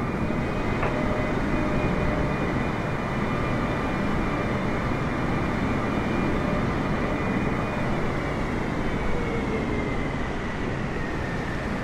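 A Boeing 747 cargo jet landing, a loud steady roar of engines and rushing air that holds evenly throughout, with a faint high whine riding on top.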